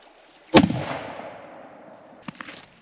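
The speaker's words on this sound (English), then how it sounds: "We're going to send some shots down range here, see what it does." A single loud, close shotgun blast fired at a turkey pattern target at 20 yards outdoors, with a sharp crack and a decaying echo, followed by a couple of faint clicks or thumps.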